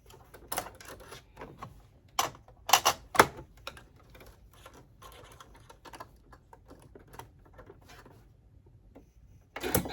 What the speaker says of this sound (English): using a zipper foot, go ahead and top stitch this edge as close to your zipper teeth as possible